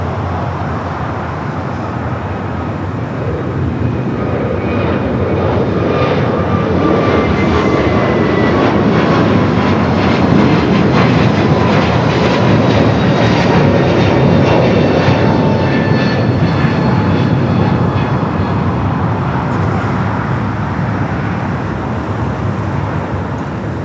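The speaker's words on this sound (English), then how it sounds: "It's an A321 Neo." An Airbus A321neo jet roars continuously on takeoff at LAX, a loud broad engine rumble with a rising whine that holds steady for the full stretch with no voices.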